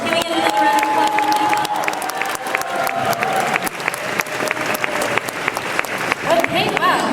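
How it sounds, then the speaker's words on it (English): A crowd at an anime convention idol singing contest claps loudly and continuously after a performance, with dense overlapping hand claps and some crowd noise filling the whole stretch. "can we get another round of applause?"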